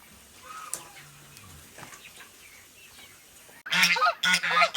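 Geese honk loudly and repeatedly near a farm barn in two close bursts, after a stretch of quiet ambient sound with faint bird calls.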